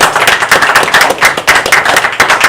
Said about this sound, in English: let's give these guys a round of applause, the veterans that are